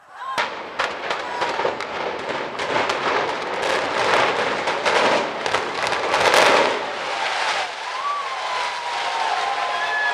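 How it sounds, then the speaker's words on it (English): Demolition of a tower block in Blackpool: a rapid volley of sharp explosive cracks followed by a sustained heavy rumble of collapse, with crowd voices audible over the noise. "Here is Blackpool's iconic tower block's demolition on Sunday, the 31st of July,"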